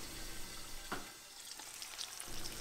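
Mackerel fillets with garlic, lemon and rosemary fry in a pan with a steady, fairly quiet sizzle throughout, broken by a brief scrape or two.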